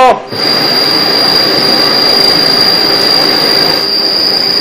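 Rail maintenance vehicle setting off along a metro track at night, giving a steady loud rumbling roll with a persistent high wheel squeal throughout, close by.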